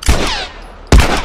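Two loud, sharp gunshots in The Last of Us, close and punchy, about a second apart, with a ringing tail after the first and no talk.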